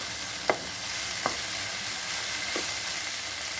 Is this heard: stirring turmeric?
yes